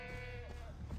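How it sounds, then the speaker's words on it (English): A goat bleating in the video game Far Cry 3, one wavering, drawn-out bleat heard close and fairly loud over low game ambience. "Oh, there it is. That's a goat."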